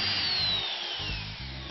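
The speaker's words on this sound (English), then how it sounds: "we pre-drill and use some more of our 40mm long chipboard screws to fix the Meranti" A short burst of a power drill pre-drilling a Meranti wood frame, a whining motor with a gritty grinding edge, close and steady.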